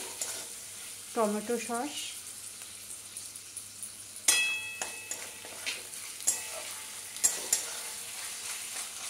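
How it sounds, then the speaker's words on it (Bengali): Chicken and vegetable pasta mixture is stirred in a hot pan, with scraping spoon strokes and clinks over a soft sizzle, and a brief voice speaking near the start. "সমস্ত কিছু খুব ভালো করে আরও একবার মিশিয়ে নেব"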